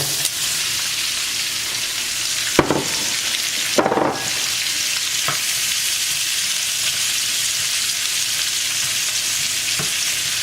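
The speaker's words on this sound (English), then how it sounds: "let's saute our onions and garlic probably for 2-3 minutes" Onions and garlic sautéing in a little oil as the base for beef bourguignon, a continuous close sizzle broken by a few sharp stirring scrapes, with no talking.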